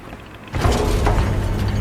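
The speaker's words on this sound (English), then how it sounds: "Changing magazine." Mechanical clatter and ratcheting clicks of a weapon magazine being swapped in the video game Space Marine 2, sudden and close, continuing as a steady metallic rattle.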